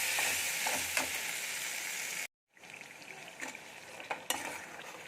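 Spice paste with peanuts frying in oil in a pan over a low gas flame for a vegetarian chana potol curry, with steady close sizzling, occasional stirring scrapes and a brief gap of silence partway through.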